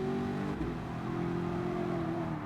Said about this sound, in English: I can hear the car.